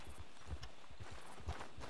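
Horse hooves in a video game clip-clop in a quick, uneven walking rhythm, fairly close, with a soft background hum and no talking.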